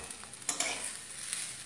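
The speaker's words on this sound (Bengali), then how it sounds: "এই সব মিলিয়ে এখন আমি ভালো করে ভেজে নিয়ে ভাজাও হয়ে এসেছে।" Vegetables for a vegetable khichuri fry quietly in a pan, a faint steady sizzle with a couple of short clinks from stirring, no talking.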